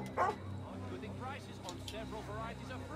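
A dog in the video game Assassin's Creed Rogue gives a short bark-like yip near the start, then soft whimpering sounds, with people talking over the game audio throughout.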